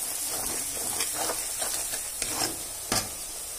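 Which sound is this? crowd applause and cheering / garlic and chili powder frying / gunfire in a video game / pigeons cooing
garlic and chili powder frying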